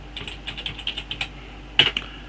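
Brief bursts of typing on a computer keyboard while entering a Logo program command, light taps in a quick run followed by a louder cluster of keystrokes, with no talk.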